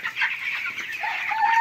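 Young chickens about eighteen days old cluck in a close, busy chorus, a steady overlapping chatter with no talking.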